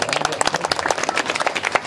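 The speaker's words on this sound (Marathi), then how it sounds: "वाजवा टाळ्या पोरासाठी महाराज." At a kirtan led by Ashok Maharaj Talde Alandikar, the audience claps for a boy: quick, dense, scattered handclaps, close and lively, lasting about two seconds.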